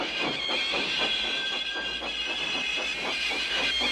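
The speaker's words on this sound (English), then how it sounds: "Thomas pushed and puffed and pushed as hard as ever he could." An animated steam tank engine puffs hard while pushing, giving a steady rhythmic chuff with continuous hissing steam and a faint whistle-like tone, constant and fairly close throughout.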